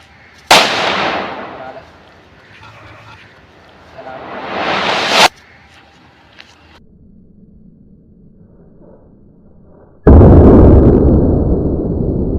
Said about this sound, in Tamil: இப்போ வந்து குருவிவெடி வெடிக்கலாம்.